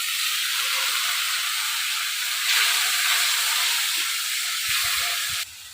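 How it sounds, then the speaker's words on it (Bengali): Spice paste sizzling loudly in hot oil after a splash of water is added for a Bengali katla fish curry, a steady close hiss that surges briefly twice before easing off at the end. "মশলাতে অল্প একটু সামান্য জল দেবো।"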